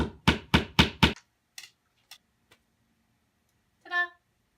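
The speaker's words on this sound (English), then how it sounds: "then where that hole is where I'm going to hammer the nail in" A nail being hammered into a wall to hang a picture frame: four rapid loud hammer strikes in an even rhythm, then a few lighter taps, followed by a short clatter near the end.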